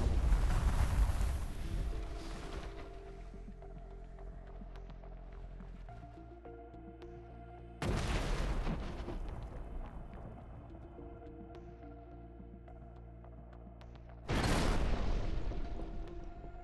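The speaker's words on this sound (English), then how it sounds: "The shelters were blown up in powerful explosions" Three powerful blasts destroying military shelters boom out at intervals, each a sudden broad roar that decays into a long rumbling, humming tail, with no talk.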